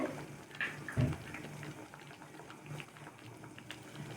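A pot of sambar bubbles and simmers on the stove, a soft steady gurgle with a small thump near the start.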